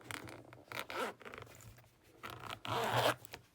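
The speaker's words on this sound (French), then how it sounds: "on va quand même ouvrir cet étui" The zipper on the case of a Jacques Bianchi JB200 Destro dive knife is pulled open in several quick, close rasping runs, ending with one longer, louder zip.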